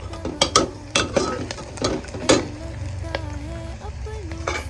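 Ginger garlic paste and red chili powder are stirred into fried onions in a pan for masala bhat. A spoon clinks and scrapes against the pan in quick strokes over a low sizzle, with a faint voice briefly audible.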